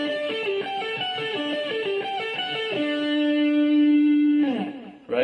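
An electric guitar plays a looping intro riff, a clean repeating pattern of picked notes that settles onto one long sustained note before a few closing strums.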